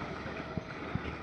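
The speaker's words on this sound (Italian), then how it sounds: "Adesso ci sta venendo un po' di vento" Wind blowing by Lake Como at Cernobbio, a steady rushing buffet against the microphone with two soft thumps.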